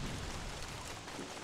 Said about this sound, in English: And the rain is blowing, so I think it may behoove me to just hang out all night with a torch